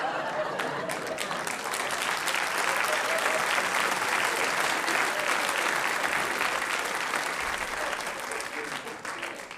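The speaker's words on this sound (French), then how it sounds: "N'applaudis pas ça" A public audience at a live comic performance bursts into dense, sustained applause that holds steady and loud for several seconds before easing slightly at the end.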